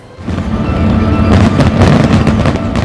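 A massive National Day fireworks display with over 31,000 firing shells, a loud continuous barrage of booms and crackling bursts that thickens toward the end, with no voices.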